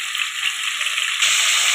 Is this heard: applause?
no